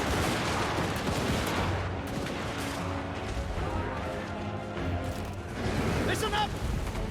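Handgunner units firing in a video game battle, with dense, rumbling volleys of gunfire under excited shouted voices.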